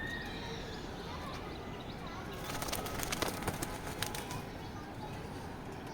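Racing pigeons in a loft: a soft, close flutter of flapping wings with faint cooing over a steady background hum.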